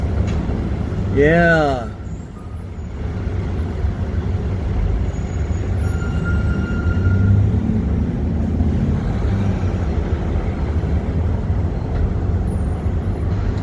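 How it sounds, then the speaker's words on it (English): An overhead elevated train runs into the station from Queens, a heavy low rumble with a high brake hiss that stays steady throughout, while a voice speaks briefly nearby. "you could see the one of the trains coming in from Queens"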